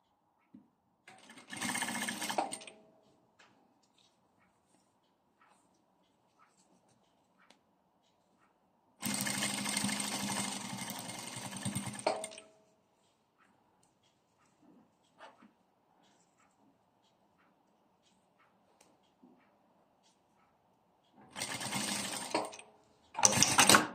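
A sewing machine stitches a zipper with a zipper foot in three separate bursts of rapid mechanical whirring, each lasting a few seconds, with near-silent pauses in between.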